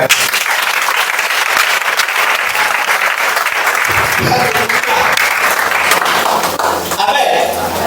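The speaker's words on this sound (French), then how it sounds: "acclamez pour vous-même" Church congregation applauding during a Sunday service, a loud dense burst of clapping from a crowd that fills the room continuously for several seconds, with voices mixed in.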